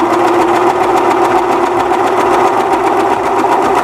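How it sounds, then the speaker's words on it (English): A serger restitches a seam on knit fabric, its motor whirring in one loud, steady, continuous run close by. "I'm just going to restitch that seam"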